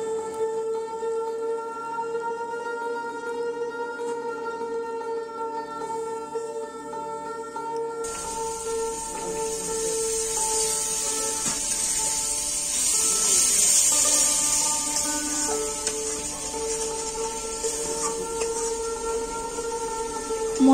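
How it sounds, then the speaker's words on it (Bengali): Spices frying in a pan for chicken curry, a steady close sizzle and hiss over a constant mechanical hum, running unbroken for about twenty seconds. "মশলাটা কষানো হয়ে গেছে"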